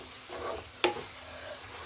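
Mango puree cooking in a pan for mango laddu, a soft steady sizzle with a single sharp scrape of the stirring spoon partway through.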